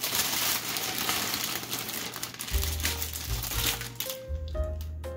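A plastic bag holding reusable freezer bags crinkles and rustles steadily up close as it is handled and opened, with some lower thumps toward the end.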